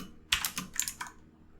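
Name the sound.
typing code on a computer keyboard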